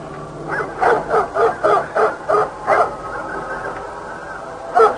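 Dogs bark in a quick series of about eight yaps, then fall quiet before one final bark, heard at moderate distance outdoors.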